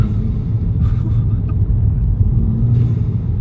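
A modified Mk5 Golf GTI with a Ramair intake accelerates in second gear, a loud, steady engine roar with whooshing air bursts from the intake, heard from inside the car.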